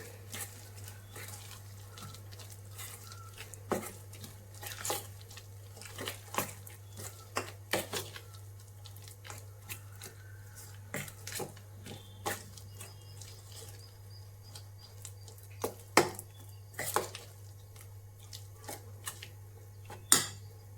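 Idli batter being stirred in a bowl, heard as faint, irregular clinks and scrapes of utensil against the bowl over a steady low hum, with no talking.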